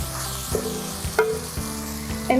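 Spices cooking in oil for a low carb chili, a gentle sizzle with a few stirring knocks and scrapes at intervals over a steady tonal background hum.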